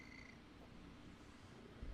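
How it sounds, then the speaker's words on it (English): A cat purrs in a close, continuous low rumble, fairly quiet and steady, with no other sounds. "Listen to his very cute purring, though."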